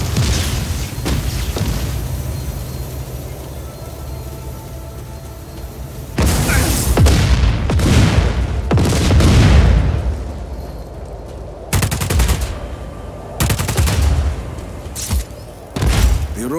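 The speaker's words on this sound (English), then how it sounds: "That's a standard issue Black Hand service rifle. With an underbarrel grenade launcher." Just Cause 4 gameplay with a Black Hand service rifle and underbarrel grenade launcher: several heavy booming blasts and bursts over a steady low rumble, loud and close, arriving in irregular clusters.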